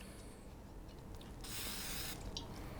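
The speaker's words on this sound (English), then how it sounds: "I'm just gonna give these a little spray of ballistol." A quiet hiss of Ballistol lubricant aerosol sprayed on cleaning patches for a Colt Model 1903 Pocket Hammerless pistol in a short burst, followed by a brief second spritz, close and faint.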